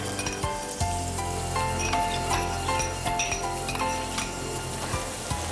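Chopped garlic and ginger sizzle loudly in a pan for fish puttu, with repeated stirring scrapes and light metallic clinks of a spoon against the pan over a continuous frying crackle.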